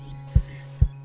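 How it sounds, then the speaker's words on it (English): Two deep, booming kicks from a live-coded SuperCollider bass drum routed through reverb land about half a second apart. A steady low electronic hum sits underneath and there is no talking. "So I might sometimes want my bass drum to have some reverb on it"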